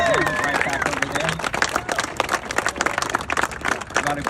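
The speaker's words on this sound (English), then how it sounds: "I want you to give a warm round of applause for Jen and Ryan" Warm applause and clapping from a crowd at a grand opening ribbon cutting, steady and fairly loud, with voices and babble mixed in throughout.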